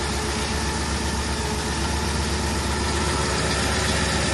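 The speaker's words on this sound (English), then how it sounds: "that fuel pump leaking so bad, it's sucking air and losing its prime real quick. But as long as it's idling, it does good." A 1964 Chevelle engine with a leaking fuel pump idles steadily and loud, producing a constant low rumble with no break.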